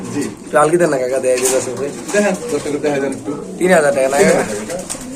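Pigeons for sale at a bustling pigeon market, white Spanish birds among them, coo in repeated throaty, warbling phrases close by, with voices murmuring in the background.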